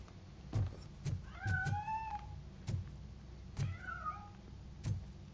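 A cat meows in the Robocop: Rogue City video game, with two clear rising meows from a hidden cat, backed by a steady low rhythmic thumping and game ambience.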